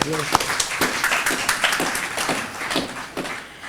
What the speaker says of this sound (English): let me just give Uncle Raj a round of